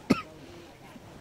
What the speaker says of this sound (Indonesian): maaf saya batuk ya Bapak Ibu,